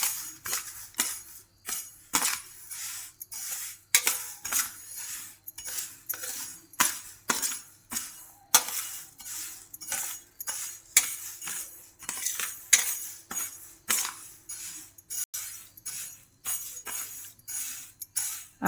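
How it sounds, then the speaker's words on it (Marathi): A spoon stirs dry roasted fennel seeds in a metal pan, a long run of rapid rhythmic scraping and clinking strokes, close and fairly crisp, with no talking. "बडीशेप पण याच्यात ओतून घ्यायची। हे सगळं असं कालून घ्यायचं एकत्र।"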